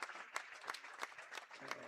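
Faint, thin applause from a small crowd in a gym at a high school girls' wrestling dual, with a few distinct claps standing out from a light spatter.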